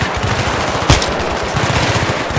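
Machine gun fire in the video game Battlefield 3 rattles out as a continuous rapid burst of loud, close thuds, alone without talk.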